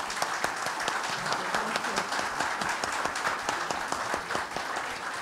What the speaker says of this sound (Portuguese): Eu já peço, desde logo, aplausos antecipados e de boas-vindas às duas professoras.